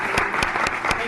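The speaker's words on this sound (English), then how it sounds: "Give him a round of applause." A crowd applauds steadily at Jimmy Carter's 96th birthday celebration, a continuous wash of clapping, fairly loud and close, with a few sharper accented claps standing out at regular intervals.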